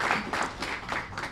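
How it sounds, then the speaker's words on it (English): A brief stretch of audience applause greets Terry at a school district Student of the Month ceremony, a moderate, close patter of clapping in uneven pulses lasting just over a second. "give him a great round of applause and welcome"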